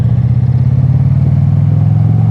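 An 840-pound motorcycle engine drones loudly and steadily while riding, a deep low rumble with a fast, even pulse, close and continuous with no talking.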